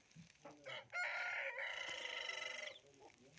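Rooster crowing in one long, loud, close call that holds steady for nearly two seconds during a scuffle with a duck, after a few short clucks, with no talk over it.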